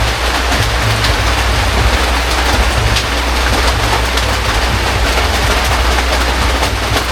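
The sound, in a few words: heavy rain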